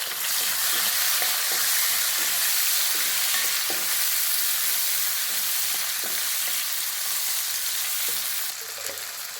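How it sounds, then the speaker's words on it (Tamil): Chopped onions and a tomato sauté in a pan for a South Indian kulambu, giving a steady, loud sizzle with faint stirring clicks throughout and no talking. "வெங்காயம் நல்லா வாங்கிட்டு பொடியாக வதக்கில் தக்காளி ஒரு தக்காளி போட்டுட்டேன்"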